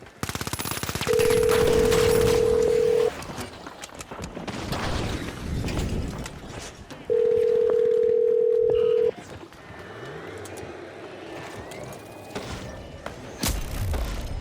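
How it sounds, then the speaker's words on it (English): Phone call being placed: two long steady tones about two seconds each, separated by several seconds of noisy clatter, with a short warbling electronic tone near the end, all loud and close. "Let me call this guy back."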